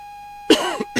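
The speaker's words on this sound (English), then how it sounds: "Little cough" A single short cough, close and fairly loud, followed by a brief smaller throat sound, over a quiet steady hum.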